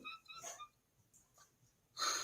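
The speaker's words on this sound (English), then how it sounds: "I could not believe she's snoring so loud" Callie the dog snoring loudly, a few rough, breathy snorts with a harsh burst at the end, close and alone.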